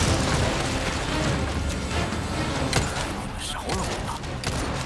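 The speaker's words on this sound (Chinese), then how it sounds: "敌人扎堆，扔个手雷。" A grenade going off among clustered enemies in Resident Evil 4 Remake, a thick rumbling blast with debris and crackle, loud and sustained amid combat noise.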